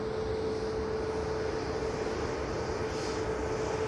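A Boeing Dreamliner jet departing an airport, heard as a steady, moderately distant engine roar with a constant whine running through it, with no voices.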